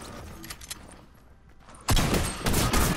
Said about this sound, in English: All these damn drum shotguns!